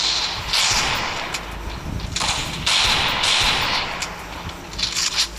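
Gunfire in the mobile battle game Free Fire, several sharp bursts of shots at close range, with bright cracking reports repeating at irregular intervals over a steady noisy background.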